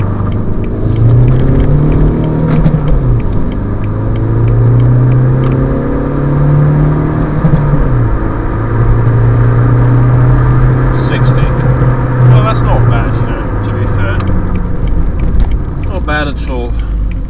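A 2004 Renault Grand Scenic 1.9 diesel people carrier accelerating hard from standstill on a damp road, the loud engine drone climbing through several gear changes while a person talks over it.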